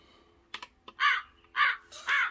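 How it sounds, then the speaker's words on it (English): Crow cawing sound effect played from a Tenlamp podcast interface, three loud harsh caws in steady succession after a few faint clicks, clear and close with no talk. "that's a crow. It's a crow sound."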